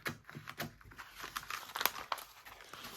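Scissors snip through material during a craft frame project, a run of crisp, close cuts with crinkly rustling and a few sharper clicks, no voices.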